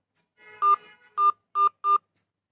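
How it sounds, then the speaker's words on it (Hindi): Telephone keypad tones on a call to the SBI toll-free balance-check line as the last four digits of a bank account number are entered: four short, clean beeps in quick succession after a fainter tone. "खाते की आखिरी चार अंक डायल करें अपने अकाउंट नंबर का चार अंक डालना है"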